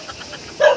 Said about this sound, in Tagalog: may aso rin. Tagabantay.